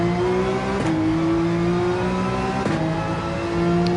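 A Gran Turismo 7 race car accelerating hard under full throttle, a loud steady engine note climbing in pitch with quick upshifts breaking the rising whine twice.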